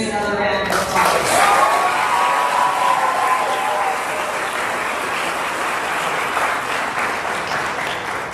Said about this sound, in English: Let's give those seniors another round of applause.